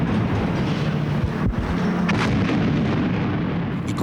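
Cannon fire at the Palace of Justice: a dense, continuous roar of low rumbling with a sharp blast near the middle, all loud and unbroken from start to finish.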